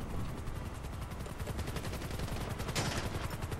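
Rapid machine gun fire rattles in GTA Online, a steady stream of close, dense bursts filling several seconds, with one brighter burst near the end.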